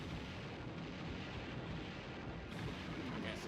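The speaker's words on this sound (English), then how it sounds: "Torpedo away!" A torpedo launches in the video game Banjo Tooie during a boss fight, a dense, steady roaring rumble that fills the whole clip without letting up.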